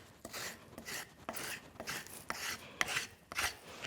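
A spokeshave pushes across a wooden Windsor chair spindle in repeated rasping strokes, about five or six close, scraping passes with short pauses between.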